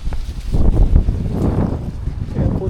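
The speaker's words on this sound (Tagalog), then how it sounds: "Grabe yung hangin." Strong winter wind buffets the microphone during a drive. The low, rumbling gusts are loud and continuous and swell and ease throughout.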